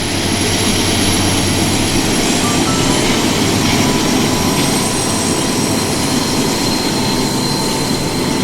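A Union Pacific General Electric AC44 locomotive passes with a loud, steady rumbling roar and a high whine held throughout, close by and without let-up.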